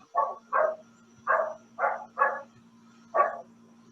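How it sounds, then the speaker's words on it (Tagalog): A dog barks six times at a moderate distance, in short, evenly spaced woofs over a faint steady hum, with no talking. "So may aso."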